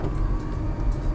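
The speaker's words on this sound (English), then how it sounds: "actuating the sunroof now" The sunroof of a 1992 right-hand-drive JDM Honda Prelude 4WS runs open with a steady low motor hum and whir, close by and unbroken, with no talk over it.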